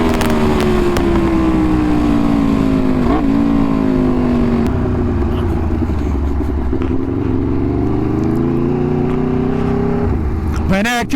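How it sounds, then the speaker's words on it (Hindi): A Yamaha YZF R1 sport motorcycle engine howls loudly and close, revs climbing and falling in long sustained sweeps, with a sharp blip near the end and a faint voice underneath. "Oh my God, this bike is very powerful than what I think."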